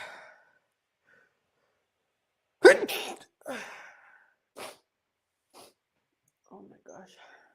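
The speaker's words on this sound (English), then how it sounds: "Nope, I think I need to sneeze again." A single loud close sneeze from a woman bursts out of silence, followed by a few soft breaths, sniffs and faint trailing sounds.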